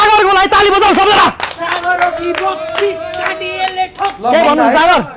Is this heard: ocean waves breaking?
no